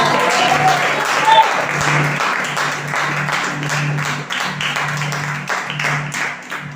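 A church congregation at a Father's Day service applauds their fathers, steady clapping close and fairly loud, with a voice or music sounding faintly underneath.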